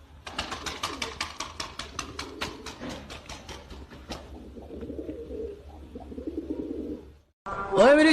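A series of quick rhythmic clicks or taps opens, followed by soft low cooing from fancy pigeons nearby, ending with a brief louder sound after a short pause.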